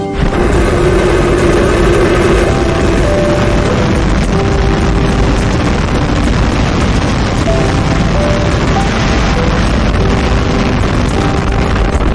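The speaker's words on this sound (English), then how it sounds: "We have liftoff." SpaceX Starship rocket at liftoff during an integrated flight test, a continuous, overwhelming deep roar of the booster engines that stays at full loudness throughout with a distorted, rumbling crackle.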